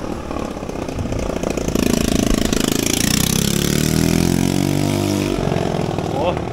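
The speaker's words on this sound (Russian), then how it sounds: "Это мощный двигатель, звук, рев мотора просто." A powerful motor vehicle engine roars on a city street, rising steadily in pitch as it accelerates and staying loud and close for several seconds before easing off.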